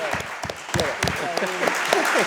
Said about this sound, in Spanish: merecen un súper aplauso de todos